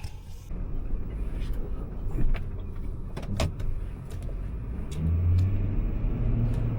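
A truck passes on a road during an Alaska blizzard, a steady low rumble that swells toward the end over a constant wind-blown background, with a few faint clicks and knocks inside the car.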